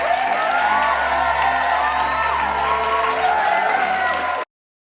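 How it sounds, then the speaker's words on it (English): A studio audience claps and cheers ecstatically in a dense, continuous roar of applause with whoops, then cuts off abruptly near the end. "A camera sweeps out over an ecstatically clapping audience entirely made of Sphinx and Planet"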